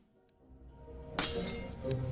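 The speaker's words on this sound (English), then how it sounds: "It shatters into pieces against the wall." In the video game Ghost of a Tale, a glass bottle shatters against a stone cell wall: one sudden crisp crash of breaking glass, followed by a short tinkle of fragments settling.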